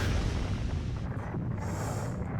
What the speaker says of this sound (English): Nice explosion animation.